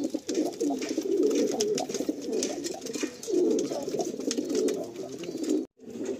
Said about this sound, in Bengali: এই যে আমার কিছু ধাড়ি পায়রা আছে